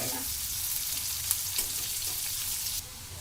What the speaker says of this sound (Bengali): বাদামি কালার পর্যন্ত আসা পর্যন্ত আমরা পেঁয়াজগুলোকে হালকা আঁচে ভেজে নিব